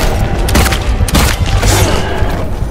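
Gunfire in the Silent Hill 2 Remake video game, loud rapid bursts and heavy booms packed densely across the whole stretch with no pauses.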